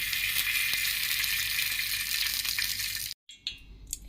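Ghee sizzles steadily in a hot pan, a dense continuous crackle that runs loud and even for about three seconds, drops out abruptly for a moment, then resumes with a few sharper spits.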